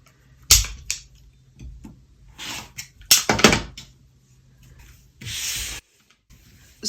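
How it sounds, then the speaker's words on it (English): Quilt fabric has its rough edge cut off in several short, crisp strokes, with quiet pauses between them and no talking. "I'm going to cut off this rough edge here."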